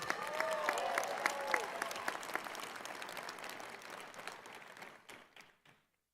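Commencement audience at a medical school graduation ceremony breaks into sustained applause that gradually tapers off and ends in silence; no one speaks over it.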